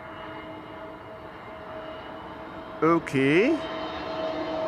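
Steady broad engine roar of an airliner landing on the Kaagbaan runway at Schiphol airport, holding throughout at moderate distance, with a brief burst of other sounds and a short spoken word near the middle.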